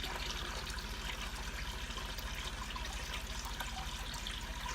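Water runs and trickles steadily inside a home aquarium being finished, a continuous close wash of flowing water with no voices.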